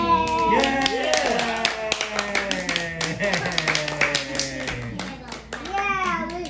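A child clapping at a birthday gathering, a run of uneven hand claps close by amid children's voices, singing-like cheering and adult talk.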